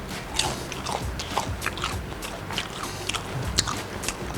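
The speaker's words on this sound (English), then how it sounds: "You can probably hear the crunch." Crunchy fried calamares from Metro Manila street food, bitten repeatedly in close, crisp crunches over a steady background hum of a busy setting.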